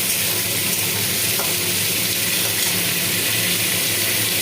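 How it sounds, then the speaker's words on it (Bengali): Potatoes and onions fry in a pan for masala Maggi, giving a steady, even sizzle that stays constant throughout with no speech. "তারপরে ছেড়ে দেবো আলু। একসঙ্গে সবগুলো ভেজে নেবো ভালো করে।"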